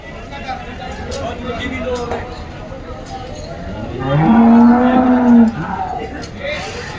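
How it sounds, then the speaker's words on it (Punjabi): A dairy cow at a cattle sale lets out one long, loud moo in the middle, with faint voices and farmyard background noise around it. "ਚੰਗੇ ਦੁੱਧ ਵਾਲੀ ਗਾਂ"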